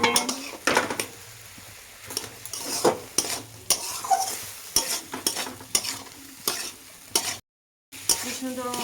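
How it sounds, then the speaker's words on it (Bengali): Soybean chunks and potatoes fry with spices in a pan: repeated spatula scrapes and metallic clinks over a gentle sizzle, stirred in an uneven rhythm, close and fairly quiet. "মশলাটা ভাজা হয়ে গেছে, এখন আমি সোয়াবিন আলুগুলো দিয়ে দেবো।"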